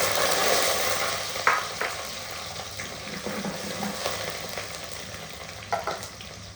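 Chopped garlic, along with chana dal and urad dal, sizzles steadily in a pan for a payar sambar, with a few sharp clinks of a spoon and stirring scrapes over the continuous frying hiss.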